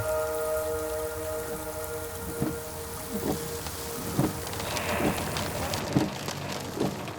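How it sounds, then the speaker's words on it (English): Heavy rain patters steadily on a surface, with a few louder drip impacts landing at irregular intervals. No one speaks. "It's siling down with rain."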